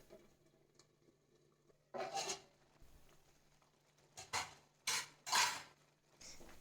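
A spoon scraping and clinking through thick paneer butter masala gravy in a pan, a handful of short metallic stirring strokes separated by quiet pauses.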